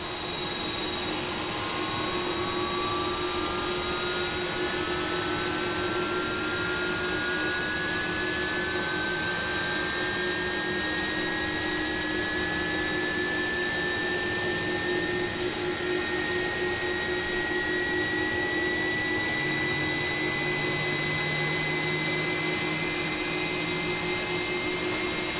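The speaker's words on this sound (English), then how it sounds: "so I know the engine has lit up." Jet engine of an Airbus A300-600R in a flight simulator spools up during engine start, a steady loud whine with a tone sweeping slowly upward over a constant low hum, with no voices.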